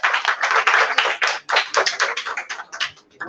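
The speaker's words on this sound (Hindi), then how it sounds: "आप सबसे चाहूंगी कि आप उनका स्वागत करें तालियों के साथ" An audience claps to welcome a guest at a hotel management institute event, a dense burst of many hands beating steadily close by, with the applause thinning and tapering off at the end.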